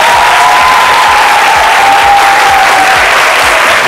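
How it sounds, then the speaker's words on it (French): Loud, dense applause from a studio audience on a French-language midday television show, a continuous crowd of hands clapping close and full, with a faint sustained tone running underneath. "Vous méritez de chers applaudissements"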